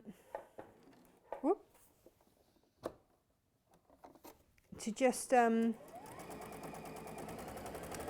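Domestic sewing machine stitching a Tilda bird cushion, a short close run of fast motor whirring with rapid needle clatter, preceded by soft handling noises and followed by a steady low hum.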